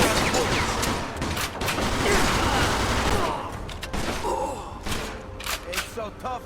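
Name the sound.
gunfire in the video game Mafia II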